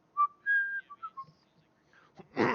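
A person whistles a short run of clear notes, one long tone followed by several quick shorter ones, close and alone, before a breathy rustle at the end.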